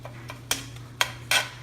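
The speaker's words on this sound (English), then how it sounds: "I have my ground beef in my pan, and I'm browning it off and chopping it up at the same time" Ground beef browning in a pan while a utensil chops it up gives a few sharp knocks and scrapes against the pan, spaced irregularly, over a low steady hum, with no talking.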